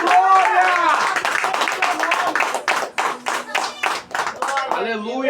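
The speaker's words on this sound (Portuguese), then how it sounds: "Dá uma salva de palmas" A church congregation at a home worship service claps hands in a rapid, loud, steady rhythm for several seconds, with voices calling out over the clapping.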